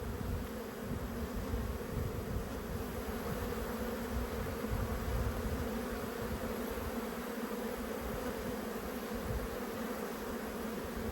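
Honey bees drone in an open hive, a dense continuous buzzing close to the microphone that holds steady and loud with no voices.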